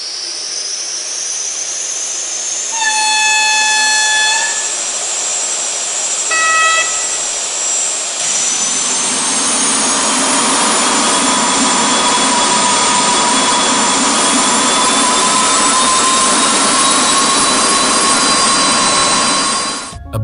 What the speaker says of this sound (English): The Fleischmann model is now to be produced with the characteristic sound of the gas turbines in both traction motors